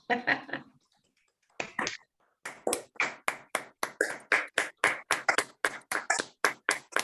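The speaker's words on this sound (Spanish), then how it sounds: "No sé si la señora Selva Marasco se merece un aplauso" Clapping at a lecture hall talk on language and cognitive stimulation: a short stretch of voice, then a steady run of about eighteen sharp, evenly timed claps in a rhythmic, unison beat, fairly close.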